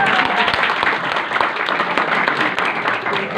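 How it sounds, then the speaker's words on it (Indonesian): Seminar audience applauds steadily, a dense continuous wash of many hands clapping from start to finish, loud and close with no pauses. "tepuk tangan buat Mas"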